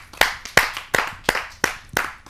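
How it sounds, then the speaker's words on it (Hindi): Audience clapping at a Hindi poetry gathering (kavi sammelan): six sharp, evenly spaced claps in a steady rhythm, close and fairly loud, with no talk. "जोरदार तालियों से।"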